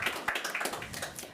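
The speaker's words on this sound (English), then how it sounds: "That is worth a clapping." Audience clapping at a Ukraine House event in Davos, a short burst of scattered hand claps from a room of listeners, fairly quiet and steady throughout.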